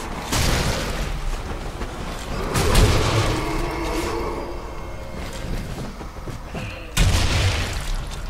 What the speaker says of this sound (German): da ist auf jeden Fall was explodiert